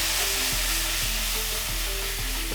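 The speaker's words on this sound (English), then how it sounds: "Deglaze the pan." Gingerbread-glazed apples in a hot pan being deglazed, giving a loud, continuous hissing sizzle that fills the whole stretch, with a faint low rhythmic hum running underneath.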